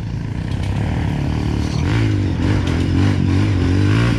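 A trail motorcycle at an off-road riders' meetup in Bom Retiro do Sul, Brazil, revving and accelerating close by, its engine note climbing and holding steady over a loud, continuous outdoor roar.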